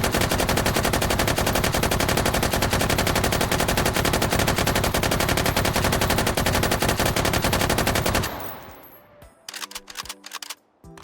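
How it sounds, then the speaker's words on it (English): Long sustained burst of submachine gun fire in the H3VR virtual reality game, rapid evenly spaced shots for about eight seconds, then the firing stops and a few mechanical clicks and handling rattles follow. "this is a submachine gun. Machine gun."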